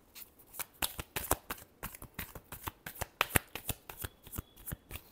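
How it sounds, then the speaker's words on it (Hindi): A deck of cards shuffled over and over in a quick, even rhythm of crisp riffling bursts, close and fairly quiet, with no talking. "Last shuffle."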